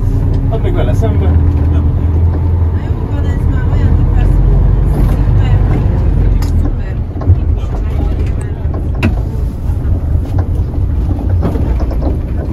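An Ikarus bus drives through Eger on New Year's Eve, its engine rumbling low and steady throughout while people talk over it and the drive continues without letup.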